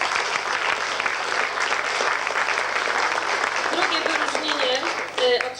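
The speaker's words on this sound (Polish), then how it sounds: "wielkie brawa dla nich" Audience at a family music festival in Tczew applauding a family band, sustained clapping throughout with faint voices and a brief tonal sound near the end.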